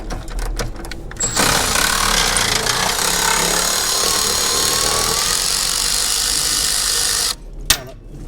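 A nearly dead battery-powered impact tool removes a body bushing bolt on a 1970 Chevrolet Nova, a loud continuous whirring rattle lasting several seconds after a few short bursts, then stopping abruptly.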